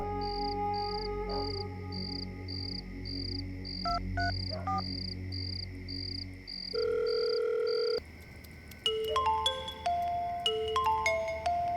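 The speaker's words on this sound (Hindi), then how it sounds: "एक बार फोन लगाइए ना जी।" A telephone rings in a home, a repeated electronic ringtone pulsing steadily over background music, then shifting to a different tone pattern near the end.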